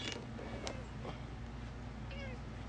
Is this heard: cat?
yes